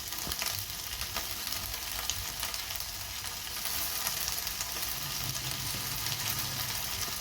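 Pavta beans roast in oil in a pan with a dense, continuous sizzle and crackle, close and steady throughout, with occasional faint stirring and no talking.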